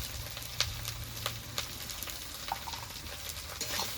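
Spice masala for ghugni, with salt and turmeric, sizzles softly in a pan while being stirred and fried, giving a steady faint crackle with a few sharp scrape ticks from the spoon.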